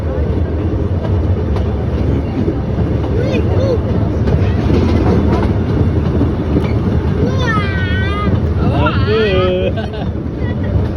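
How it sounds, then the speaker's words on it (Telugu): A loud, continuous rumble and clatter of a passing train at a zoo in Germany, with wind buffeting and voices rising over it. "train train"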